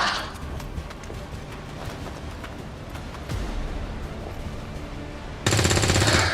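Rapid gunfire from the video game XCOM 2, a dense burst of repeated shots running through the clip and ending in a louder, harsher blast near the close.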